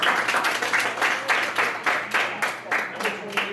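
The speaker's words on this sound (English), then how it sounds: "you clap for that" A small audience at an anime convention game show claps in short rhythmic bursts, a few uneven rounds of hands close by over a room background.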